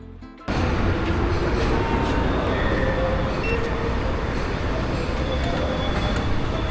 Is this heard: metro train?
yes